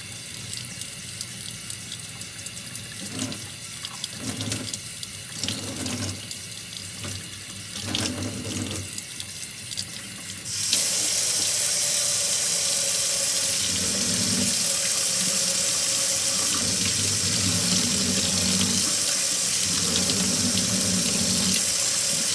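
Tap water runs steadily over a spoon, then abruptly gets much louder and harsher as the flow increases, splashing continuously.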